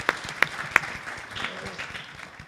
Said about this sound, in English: Let's give those people a wonderful round of applause.